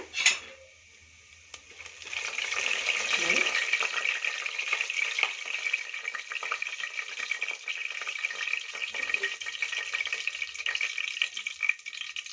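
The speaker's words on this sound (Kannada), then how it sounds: "ಸೇರಿಸ್ಕೊಂಡು ಸ್ವಲ್ಪ ಫ್ರೈ ಮಾಡ್ಕೊಳ್ಳೋಣ" Whole garam masala spices, including cinnamon, cloves, cardamom, marathi moggu, bay leaf and fennel, fry in hot oil for coconut milk pulav, a steady close sizzle following a brief clatter at the start.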